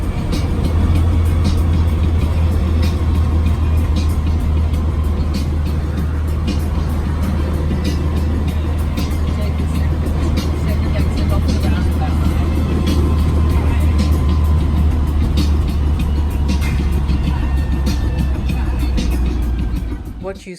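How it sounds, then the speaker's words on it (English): Old Series 3 Land Rover driving, heard from the passenger seat inside: a steady, loud low engine drone and road rumble, constant throughout with no talking. "you'll hear and see a little bit of the sound of our car"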